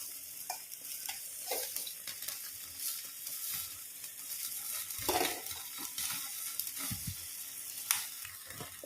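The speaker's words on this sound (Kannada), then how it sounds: "ಈಗ ಇದು ಫ್ರೈ ಆಗಲಿ" Food sizzles quietly in a pan while a utensil scrapes and stirs it in occasional strokes.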